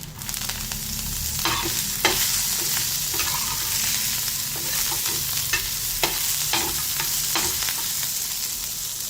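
Fresh coriander sizzles in hot oil with fried cumin in a pan, a steady close frying hiss broken by regular scrapes and taps of a stirring spoon, with no voices.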